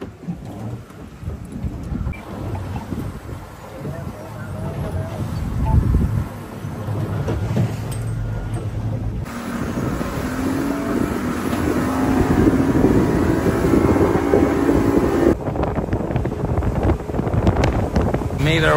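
A motorboat runs across open water with a rumbling engine and heavy wind buffeting, loud and continuous, and voices are briefly audible.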